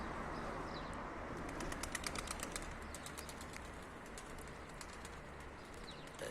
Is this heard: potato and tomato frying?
no